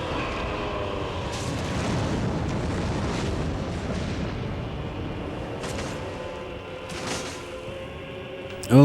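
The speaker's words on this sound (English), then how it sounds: "Please stop with the fire lasers." A boss's fire laser attack in Dark Souls roars as a dense, sustained rumbling blast for several seconds, with crackling bursts throughout and a sharp loud hit at the very end.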